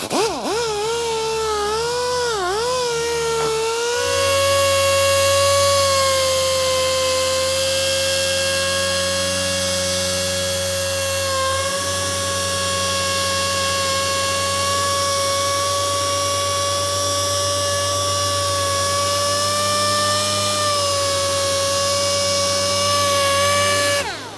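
A power polisher compounds paint on a BMW F10 M5, its motor spinning up with a wavering whine and then holding a loud, steady high hum for about twenty seconds before cutting off.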